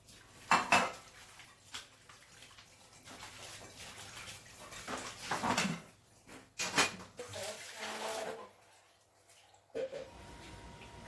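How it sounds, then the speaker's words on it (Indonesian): Dishes are washed by hand: plates and cutlery clink and clatter close by in irregular bursts, with splashing water between them and a quiet stretch near the end. "aku mau menyelesaikan bagian cuci piring ini dulu ya"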